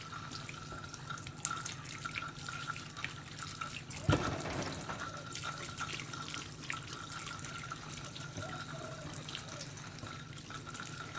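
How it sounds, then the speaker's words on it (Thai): Aloe vera leaves from a home garden are rinsed under a running tap, a faint steady trickle of water with one brief louder splash or knock near the middle. "ล้างข้างนอกก่อน เปลือกข้างลงข้างนอกเนี่ยเผื่อมันมีฝุ่นละอองอะไรอยู่เราก็จะล้าง ให้เกลี้ยงก่อนเลยนะคะ"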